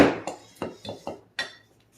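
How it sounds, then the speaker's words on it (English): A metal skillet clanking on a kitchen stove while cooking fried steak, about six sharp ringing knocks spaced unevenly, close and fairly loud, with no talking. "we're going to put a little bit of grease in my skillet right here"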